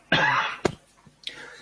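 A single close cough in a quiet room, a short burst followed by a brief throat sound and a softer trailing breath.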